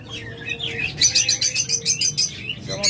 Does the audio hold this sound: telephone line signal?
no